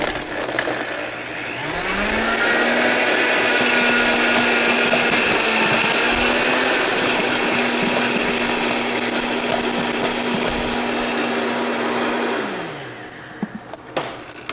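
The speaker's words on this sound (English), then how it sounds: "in the blender it goes" A blender whirs loudly with a dry mixture for a rib eye and strawberry rhubarb crostada meal, a steady motor drone starting around two seconds, straining briefly midway, then spinning down near the end.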